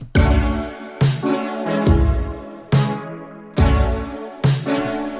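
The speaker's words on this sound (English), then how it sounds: "without the reverbs and the EQ, the snare sounds like this" A dry, punchy snare drum with no reverb or EQ struck several times at a steady tempo, each hit sharp and close with a short ringing tail.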